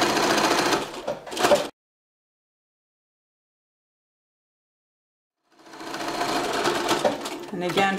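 A sewing machine stitches along the very edge of a cloth diaper in two close bursts of fast mechanical running, separated by a long silent pause while the fabric is turned with the needle down.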